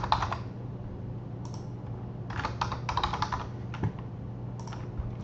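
Typing on a computer keyboard while filling in a name, with quick clusters of close key clicks separated by short pauses over a low steady hum.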